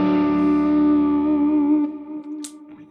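Electric guitar on a split coil pickup runs through a Fractal AM4 modelling a Fender Deluxe Reverb amp, pushed by a Tube Screamer, sounding a sustained sweet, mildly overdriven note that rings out and decays with reverb and no talking.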